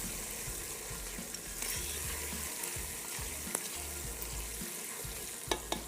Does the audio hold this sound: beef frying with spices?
yes